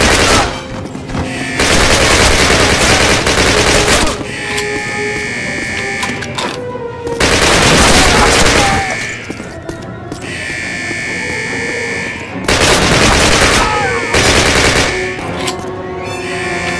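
Gunfire in the video game Call of Duty, loud bursts of rapid automatic fire broken by short pauses, with the shots repeating in clusters.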